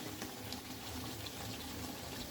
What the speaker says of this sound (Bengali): একটু গরম জল দিব